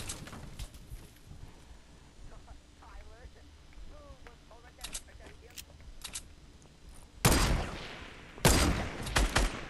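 Sniper rifle shots in a Fortnite match: two loud, broad cracks land late, after scattered small game clicks and chirps, while players talk.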